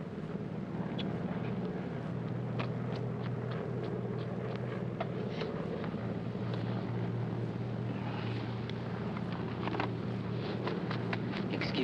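Steady low engine drone with a constant hum throughout, heard from inside a passenger airplane cabin in flight, with faint scattered clicks and rustles over the continuous rumble.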